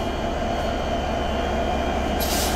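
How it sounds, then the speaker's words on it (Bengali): A broad-gauge BEP 32 locomotive, number 6604, on the Rupshi Bangla Express gives a steady, even rumble with a dense wash of noise, heard alone and at moderate distance. "রূপসী বাংলা এক্সপ্রেস ট্রেনের আজকের লোকো"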